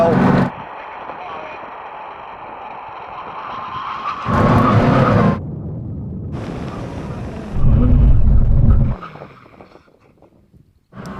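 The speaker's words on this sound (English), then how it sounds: "Now we can have a brake test from 100 miles an hour. When we reach line, full emergency stop." A car brakes hard to an emergency stop from 100 mph, with wind and road roar swelling and dropping across the run and a voice talking over parts of it.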